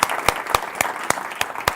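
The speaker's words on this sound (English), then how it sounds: "join me with a big round of applause for our 4 wonderful panelists" A short burst of audience applause for four panelists at the close of a climate action panel, with distinct claps standing out over a soft crowd bed.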